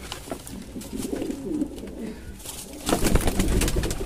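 Pigeons coo in low, throaty bursts close by, swelling louder toward the end, with faint rustling and a little background noise.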